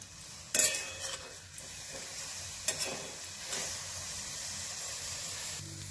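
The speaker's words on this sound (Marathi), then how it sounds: "आपण लोखंडाची कढई घेतली, त्याच्यात मटकी आधी अशी भाजून घ्यायची." Sprouted matki (moth bean sprouts) dry-roasts in an iron kadhai, with continuous hissing and crackling broken by sharp stirring scrapes of a spoon against the pan.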